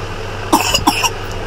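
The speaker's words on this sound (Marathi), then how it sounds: "खूप खोकला लागलाय" Two short, sharp coughs close by, one after another, over a quiet background hum.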